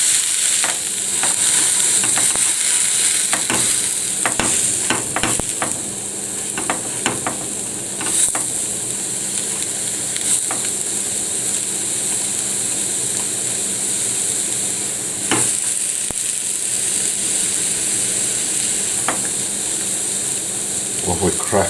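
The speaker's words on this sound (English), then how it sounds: "Lovely crackling sounds there as it's cooking." Ox liver fries in a hot pan with a steady loud sizzle and crackle, scattered sharp pops and spatters throughout, heard close with no talking.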